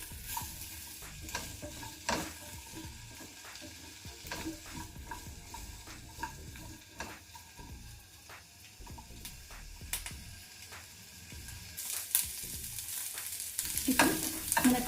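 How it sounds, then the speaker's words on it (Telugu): Onion petals frying in a little oil in a pan on medium flame for kadai veg, a quiet continuous sizzle with frequent small clicks and scrapes of stirring, louder toward the end, no talking. "ఇది కూడా మీడియం ఫ్లేమ్ మీద ఒక 2 నిమిషాలు మనం వేయించుకోవాలి"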